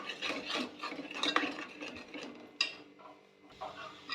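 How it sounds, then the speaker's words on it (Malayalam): Egg being stirred in a pan over full flame, a scraping, rasping spoon-on-metal sound with steady strokes, close and moderately loud, pausing briefly before resuming. "ഒരു അഞ്ച് മിനിറ്റ് വരെ ഫുൾ ഫ്ലെയിമേലിട്ട് ഇളക്കിക്കൊണ്ടേയിരിക്കണം"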